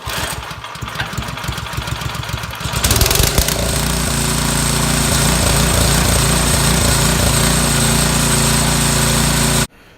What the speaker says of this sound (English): so we'll go ahead and do a test fire here